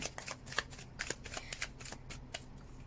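A tarot deck being shuffled by hand, brisk repeated riffling and flicking of cards close up, rhythmic bursts with short pauses and almost no talk.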